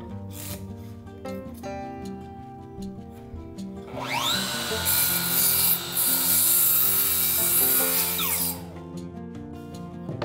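A power saw cutting a cedar mume board along a traced shape, a rising whine as the blade bites into the wood for about four seconds, then winding down, with hum and workshop background before and after.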